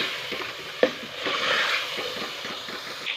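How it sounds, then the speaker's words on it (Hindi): Mutton karahi masala fries in oil in a karahi, giving a close, soft sizzle with scraping stirs and a sharp clink early on, the stirring strokes rising and falling in rhythm. "अब हम इसके अंदर ऑयल शामिल करेंगे और अच्छी तरह से इसकी भुनाई करेंगे।"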